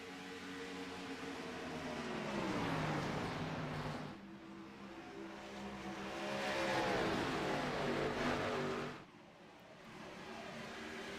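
Xfinity Series stock cars race around Darlington Raceway. Engine roars swell and fade as packs pass, with rising and falling pitch, loud and sustained, and short gaps between the waves of cars.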